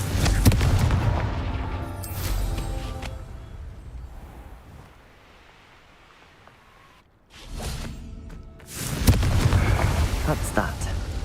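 Confringo blasting spell going off in Hogwarts Legacy, with loud booming bursts at the start and again near the end and a quieter lull between them, mixed with game music and voices.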